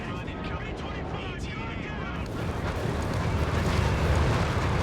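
Bombing-strike explosions from the Company of Heroes 3 strategy game, a steady rumbling barrage of dull blasts that swells louder over the second half, with a voice talking over it.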